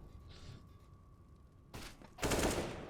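Gunfire in a Counter-Strike match on the Overpass map: a sharp burst followed by a louder, fuller shot near the end, standing out over low background game ambience.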